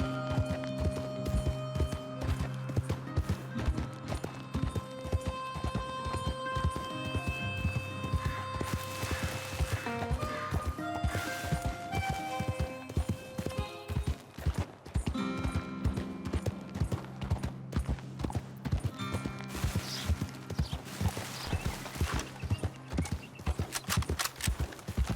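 Horse hooves clip-clop steadily at a walking pace in Red Dead Redemption 2, a continuous rhythmic clatter with game ambience and occasional snorts underneath.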